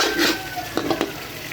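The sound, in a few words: yogurt being fried and stirred in beef masala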